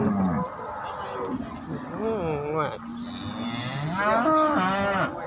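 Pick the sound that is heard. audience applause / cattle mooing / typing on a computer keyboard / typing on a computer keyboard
cattle mooing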